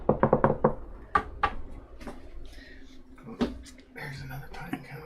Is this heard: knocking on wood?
yes